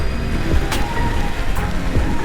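Rain falls steadily while riding a new Honda Giorno scooter on a break-in ride, making a continuous broadband hiss and patter with no voices.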